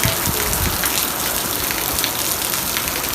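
Rain falls steadily outdoors near a covered vehicle, making a dense, even hiss of drops with no voices.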